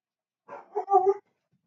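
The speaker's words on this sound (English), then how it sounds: "Sorry about the dog." A dog gives one short, voiced bark or yelp of about a second. It is moderately close and heard alone against silence.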